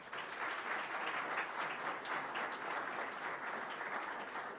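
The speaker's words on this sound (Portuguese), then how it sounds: "Chamou, então, ao palco, com aplauso de vocês" Dense, steady audience applause at a corporate business talk event, many hands clapping continuously and evenly throughout, fairly loud with no break.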